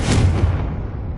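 A Confringo blasting spell detonates in Hogwarts Legacy, a heavy booming burst with a deep rumble that decays over about a second, loud and close, with no talking.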